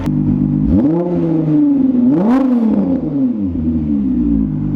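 A Volkswagen VR6 engine revs up twice with rising and falling pitch, a throaty roar that climbs sharply before settling back to a rumbling idle.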